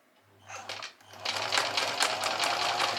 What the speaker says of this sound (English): I'm just going to sew a little bit to one side